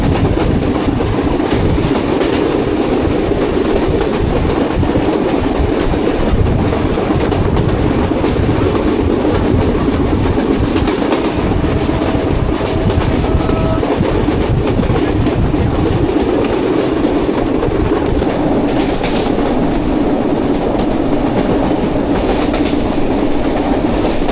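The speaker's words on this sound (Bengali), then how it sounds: "আর দেখুন এই হচ্ছে সেই কপোতাক্ষ এক্সপ্রেস" A Kapotaksha Express passenger train runs through Chuadanga toward Alamdanga station in Bangladesh, giving a loud, continuous rumble with rhythmic clickety-clack from the wheels on the rails throughout, with no voices.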